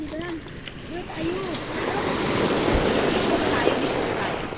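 Ocean waves washing up on a rocky, sandy stretch of Real, Quezon beach make a steady surf wash with wind buffeting the microphone, while people call out to each other over it.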